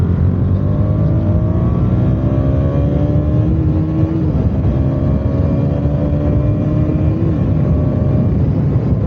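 A KTM Duke 200 motorcycle engine revs hard toward full RPM, its note rising and falling in two sustained pulls. The sound is close and loud, with no speech over it.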